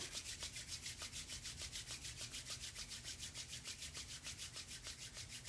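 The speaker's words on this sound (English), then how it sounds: "Gently rub your two palms together so there's a sense of friction." Two palms rubbing together in a quiet room, a steady rhythmic swishing friction, about five strokes per second, soft and close, with no talking.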